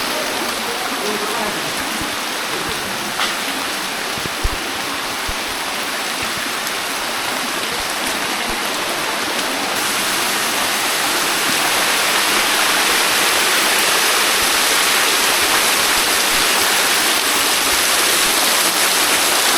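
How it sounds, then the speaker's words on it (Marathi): Heavy monsoon rain pours at Sudhagad Fort while water gushes and flows nearby, a loud, unbroken roar that swells even fuller about halfway through. "कसला पाऊस आहे यार"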